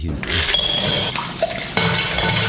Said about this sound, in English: he dunks his face in artisan water